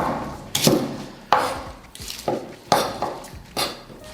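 A knife cuts the harder cauliflower stems into smaller pieces on a board, giving several separate sharp knocks spaced irregularly, close and fairly clear, with no talking.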